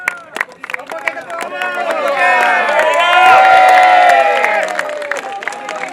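A crowd at an alumni celebration and board inauguration for SMANSA Makassar class of 2003 cheers, claps and calls out, with many overlapping voices swelling loudly in the middle before easing off.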